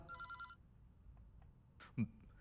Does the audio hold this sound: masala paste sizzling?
no